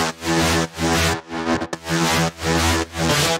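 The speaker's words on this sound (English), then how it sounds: "just a super aggressive and upfront bass sound that layers really nicely with the sub" An aggressive, upfront synth bass line shaped with the Fold wavefolder plugin, loud and buzzy with rich harmonics, plays in rhythmic sustained notes with brief gaps between phrases.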